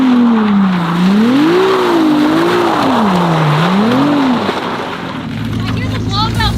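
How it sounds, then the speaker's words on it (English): Inside a Ferrari 296 GTB, the engine drones and swells through several rising and falling revs, then the pitch drops as the turbo blow-off valve releases with a brief whoosh near the cabin. Loud and close, no talk over it. "The blow valve is like right next to my ear here."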